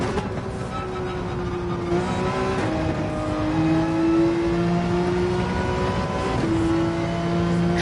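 A race car engine in Gran Turismo 7 drones loud and close, its pitch climbing and dropping repeatedly through gear changes on a track, with no talk.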